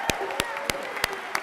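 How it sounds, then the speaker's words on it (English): Audience applause at a community event in Lincoln Park, heard as five evenly spaced sharp claps close by over a low murmur. "Let's have a huge hand for Lincoln Park's affordable winning team. Clap it up, everyone."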